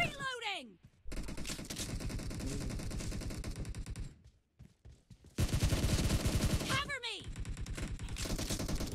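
Heavy machine gun fire in PUBG Mobile comes in long, fast, loud bursts, stopping briefly in the middle and then starting again. Players talk over the shooting.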